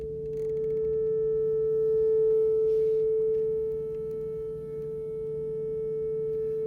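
Two sets of speakers play the same 439.8 Hz sine tone at full volume, a pure steady hum with a gentle slow swell and dip in loudness, alone with no talk.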